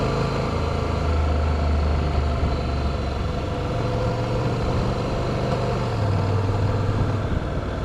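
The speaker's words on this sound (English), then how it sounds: "I'm riding the Honda CTX today with the dual clutch transmission." A Honda CTX motorcycle with a dual clutch transmission, ridden in sport mode through a park, holds a steady close engine drone with shifting low tones as the revs change and no talking.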